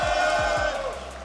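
Polish supporters cheering for a player at a card game tournament: a short burst of loud crowd shouting and whooping, close and energetic, fading out after about a second.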